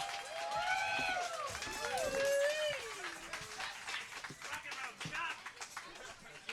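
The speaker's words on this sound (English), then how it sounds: "Give him a big round of applause, Chuck!" A festival audience applauds and cheers for Chuck McEwen, executive director of the Winnipeg Fringe Festival, a dense sustained clapping that fades gradually, with a host's voice calling out over it.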